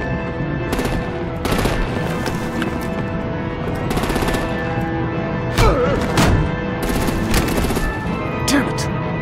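Bursts of gunfire and heavy thuds crack through a battle in the video game Batman: The Telltale Series, with repeated sharp shots and booming impacts over a steady rumbling backdrop.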